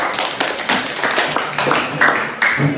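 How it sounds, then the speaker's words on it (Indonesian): Brief classroom applause for a student group during a teacher coaching session, a few people clapping in loose, uneven bursts, close and fairly loud with no talking. "Tepuk tangan untuk kelompok 2"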